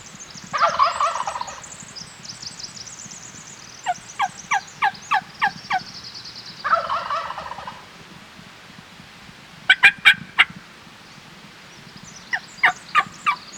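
A wild turkey gobbles repeatedly in spring woods in Idaho, its rattling calls coming in several bursts at moderate distance, mixed with short sharp clucks between them.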